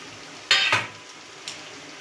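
Eggs frying in oil in a pan for an egg and bori curry, with two short sharp sizzling bursts close by and a fainter third a moment later over a quiet background.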